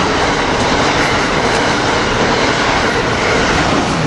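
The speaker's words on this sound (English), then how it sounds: "Here we got an Amtrak Keystone coming by" An Amtrak Keystone passenger train passes at Bryn Mawr station, a loud, close, continuous rushing roar of wheels on rail that holds steady throughout.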